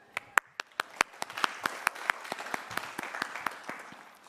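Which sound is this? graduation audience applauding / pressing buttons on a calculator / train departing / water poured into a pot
graduation audience applauding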